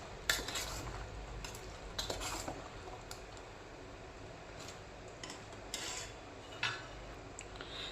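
Egg pickle being stirred after lemon juice is added, with a spoon scraping and clinking against the container in irregular bursts over a soft steady background, close and moderately quiet.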